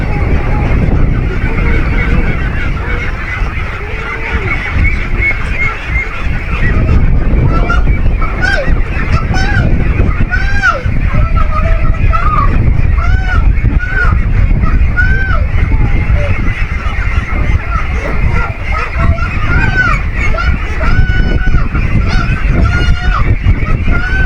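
Pet ducks being moved into a newly extended pen give loud, continuous honking, goose-like calls, many overlapping and close by, with brief human voices mixed in among the flock.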